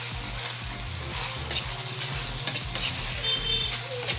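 Squid balls and meat for pancit canton guisado sizzle in a pan while being stirred, with steady frying hiss and scraping stir strokes throughout, no talking.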